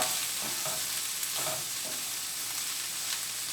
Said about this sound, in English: So I'm going to keep stirring that up, breaking the vegetables apart.